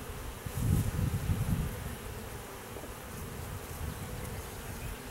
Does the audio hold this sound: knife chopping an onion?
no